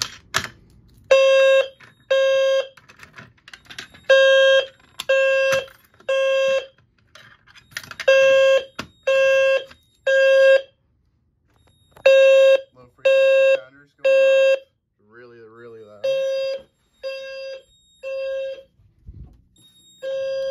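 A building fire alarm goes off after a manual pull station is pulled, sounding repeated loud electronic beeps in a steady on-off pattern with a brief warbling tone partway through.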